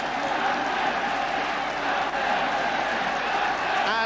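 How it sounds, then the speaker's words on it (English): A home football crowd in a stadium gives its team a sustained ovation at full time after a Carl Zeiss Jena victory, with dense, steady applause and cheering that fills the whole moment. "the home crowd giving their men a great ovation"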